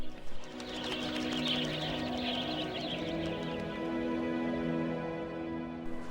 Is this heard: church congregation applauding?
no